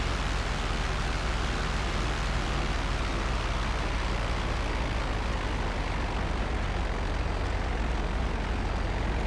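Jet engine of a Rogue high-altitude fighter in GTA Online, a steady broadband roar that holds at an even loudness throughout, with no talk over it.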